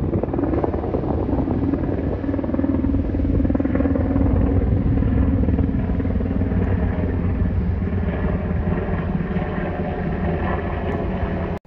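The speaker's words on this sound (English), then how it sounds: "There's a helicopter going overhead right now" A helicopter passes overhead while a car-dwelling camper waits out on the road, its steady rotor rumble loud and continuous throughout, with no talking.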